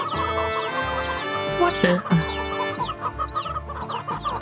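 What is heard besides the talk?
chickens clucking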